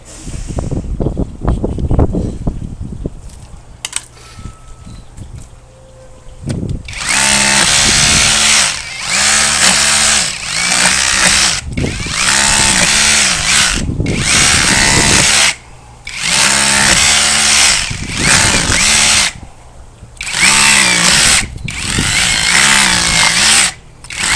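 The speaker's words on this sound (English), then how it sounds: "Get all the loose dirt out and rotor hammer it again." Loud rotary hammer drilling in repeated bursts of a few seconds each during a patio build, with short pauses between, preceded by quieter knocking and handling sounds.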